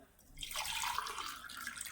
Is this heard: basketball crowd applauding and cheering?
no